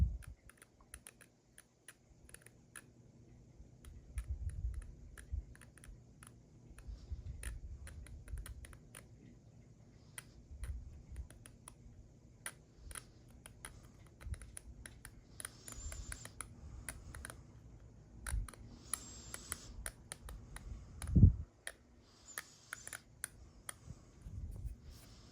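Blade scoring panel lines into a 3D printed model car body, faint repeated light scratching and clicking strokes, quiet and close, with a sharper knock near the end.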